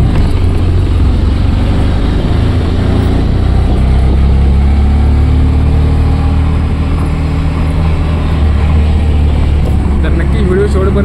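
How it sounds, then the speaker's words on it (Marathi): Steady engine drone of an auto rickshaw carrying passengers on a Sunday ride through Mumbai's Nerul area, a continuous low rumble that stays loud and close from start to finish with no clear pauses. "तर आता रिक्षामध्ये बसलेलो आम्ही।"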